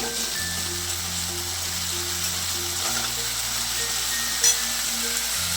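Turmeric and spices fry in a pan for bhoger khichuri, a continuous close sizzle over a low steady hum, with one brief bright clink near the end.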